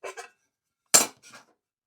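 Titanium camping pot and frying pan handled, giving a few short, sharp metallic clinks and scrapes close by, two quick taps, a pause, then a brighter clank with a softer follow-up, in otherwise silent surroundings.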